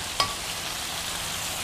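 Food sizzling in a pan, a soft steady frying hiss preceded by a sharp clink of a utensil at the start.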